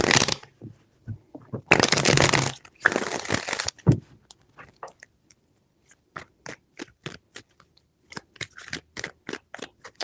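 Tarot cards shuffled up close, several loud riffling bursts at the start followed by a long run of crisp individual card snaps and taps, with no voice.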